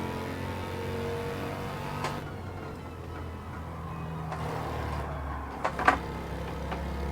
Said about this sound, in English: So all this car seems to want to do is just power slide through the corner.